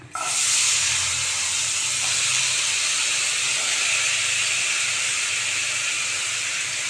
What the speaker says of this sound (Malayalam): ഞാൻ ഇതിൻ്റെ കൂടെ തന്നെ ഇനി വേഗം എൻ്റെ കിഴങ്ങിടാൻ പോവാണ്